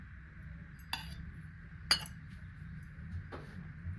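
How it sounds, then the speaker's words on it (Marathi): Two eggs cracked into chopped spring onions and whisked in a bowl, a few sharp clinks of utensil on dish over a quiet low background, close and without voices. "दोन अंडी घेतलेली आहे ती फोडून कांद्याच्या पातीमध्ये ही अंडी मिक्स करून घेणार आहे"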